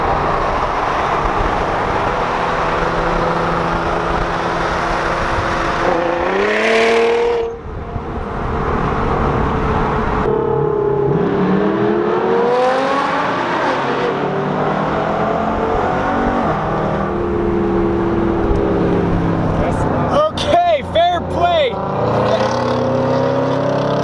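A Mercedes-AMG car revs loudly and fires off rapid popping bursts from its exhaust, with rising and falling engine pitch over a constant roar of nearby traffic; a voice is faintly heard.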